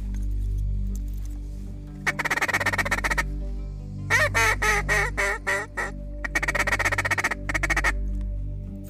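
Ducks call loudly during a duck hunt in three bursts of rapid, repeated quacking over a steady low background hum.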